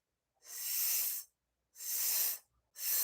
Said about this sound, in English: I'm going to do this like a hissing style exercise with my mouth just barely open